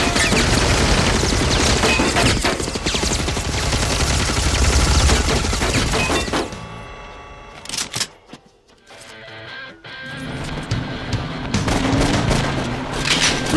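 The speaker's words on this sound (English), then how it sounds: "Heavy machine gun!" Heavy machine gun blasting in the Metal Slug arcade game, a dense, loud burst of rapid automatic fire for several seconds, a brief lull with scattered shots and crashes, then sustained gunfire resuming.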